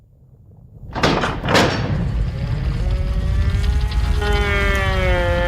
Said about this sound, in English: So all of those sounds comprise up that one door element.